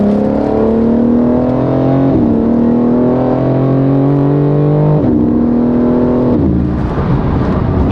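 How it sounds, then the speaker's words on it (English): A BMW M4 Competition G82 running on E40 accelerates at partial throttle, its engine note climbing steadily through several gear changes, loud and close, with no talking. "Even half throttle on E40, this thing moves."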